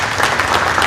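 Town hall meeting audience in a high school cafeteria applauding a sheriff, a short burst of steady clapping from many hands filling the room.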